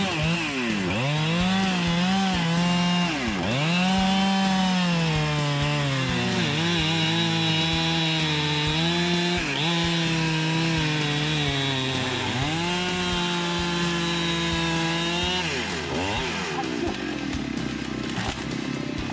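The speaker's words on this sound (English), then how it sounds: "the Echo CS73 10P chainsaw is known as the most powerful chainsaw in Echo's product line" An Echo CS73 chainsaw cuts through trees, its engine wailing at high revs and dipping in pitch as the chain bites, then revving back up through repeated cuts.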